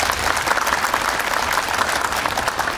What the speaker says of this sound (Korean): 지금 일하시는 여러분께 박수 한번 또 부탁드리겠습니다.